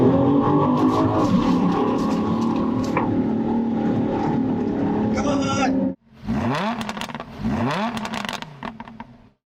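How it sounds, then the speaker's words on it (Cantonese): A Land Rover Defender 130 being driven flat out across desert sand near Dubai, its engine roaring loud and close for about six seconds before cutting off abruptly, after which voices follow. "Now accelerate hard, really hard."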